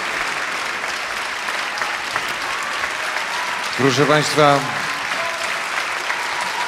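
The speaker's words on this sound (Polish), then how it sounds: "ogromne brawa." Applause from a concert audience at a jubilee concert, a steady clatter throughout, with someone speaking briefly over it partway through.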